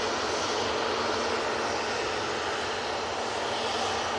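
Emirates Airbus A380 on approach near Manchester Airport, a faint, even wash of distant jet engine noise held steady throughout with no voices.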